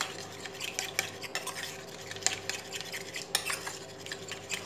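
Flour is stirred into liquid for a meatless vegetable soup, a spoon scraping and clinking against the bowl in an irregular rhythm, close and fairly quiet.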